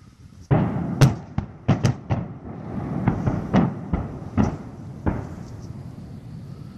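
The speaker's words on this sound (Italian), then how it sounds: "Oh, ma va che stanno sparando tanto, eh." Gunfire at a large NATO military base rings out as a series of sharp, distant-sounding bangs, some single and some in quick pairs, spread irregularly across several seconds with no talking.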